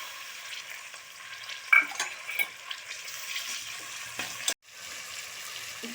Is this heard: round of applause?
no